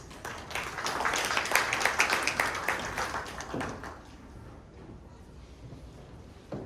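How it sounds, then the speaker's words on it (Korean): Audience applause welcoming the next speaker at a construction policy forum, rising into a steady burst of clapping that fades after a few seconds to a few scattered claps and quiet room noise. "큰 박수로 맞으시기 바랍니다"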